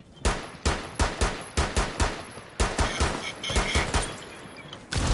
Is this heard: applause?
no